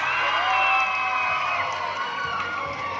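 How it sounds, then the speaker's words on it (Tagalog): A crowd claps and cheers, with high shouts and whoops from children carried over steady applause throughout. "Okay, palakpak for Norms"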